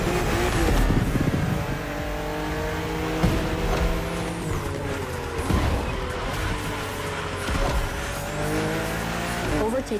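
Race cars in The Crew Motorfest video game roar along a narrow, twisty road, engines revving and shifting pitch through sharp bends with tire squeal, someone talking over the racing.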